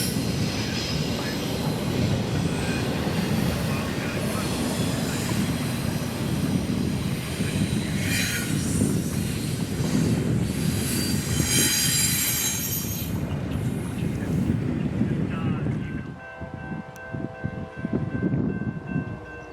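An empty ethanol freight train rumbles past steadily with a broad roar and occasional high wheel squeals, continuous and fairly loud throughout.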